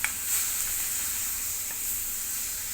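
Bay leaves, coriander and cinnamon crackle in hot oil with a soft, even sizzle and an occasional faint pop, quiet and close.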